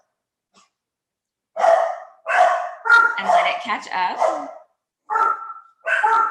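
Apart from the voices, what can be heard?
dogs barking in the house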